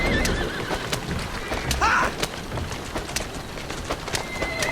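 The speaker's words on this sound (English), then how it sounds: "Who's a good horse?" A horse in the video game Assassin's Creed Syndicate whinnies once near the middle, set against busy game ambience with scattered sharp clicks and hoof-like taps.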